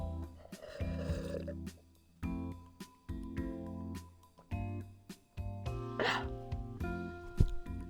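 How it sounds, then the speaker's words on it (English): A single loud, drawn-out burp from a person after drinking coffee, a low rumbling eructation with strong tonal harmonics that swells and breaks in several pulses, close and alone with no talk. "I think coffee makes me burp a lot."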